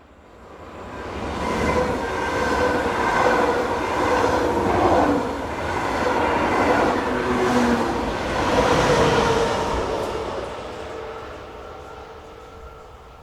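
A local passenger train hauled by a locomotive passes through Western European countryside, its rumble and rail clatter swelling steadily and holding loud for several seconds before easing away.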